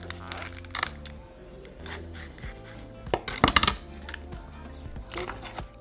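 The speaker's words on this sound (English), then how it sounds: "remove the seeds" A knife scrapes the seeds out of a halved Anaheim pepper on a cutting board, giving light clicks and taps with a cluster of quick knocks in the middle, under a bit of kitchen background noise.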